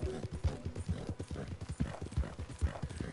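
Horse hooves clip-clopping at a steady walking rhythm in the Red Dead Online video game, close and clear, with faint speech in the background.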